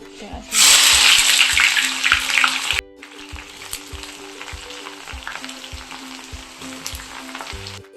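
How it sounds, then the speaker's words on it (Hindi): Sliced onions hit hot oil in a kadhai with a loud burst of sizzling, which drops after a few seconds to a softer steady fry with scraping stirs. "ऑयल में प्याज ऐड करने के बाद इसे हमें चला के मिक्स कर देना है।"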